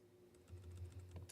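Keys on a computer keyboard tap in a quick, irregular run, faint and close, with a low steady hum behind them.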